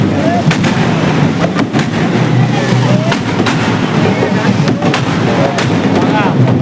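Firecrackers burst in rapid, dense succession during a Ganpati immersion procession for Andheri cha Raja in Mumbai, loud sharp bangs over a noisy outdoor crowd.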